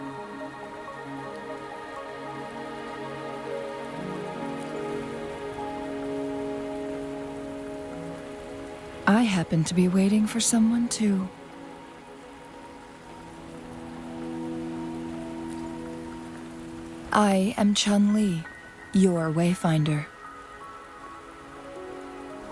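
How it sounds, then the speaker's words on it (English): Steady rain falling in the video game Wuthering Waves, a continuous soft patter heard throughout beneath game music, with a voice speaking in short bursts. "Are you trapped here by the rain?"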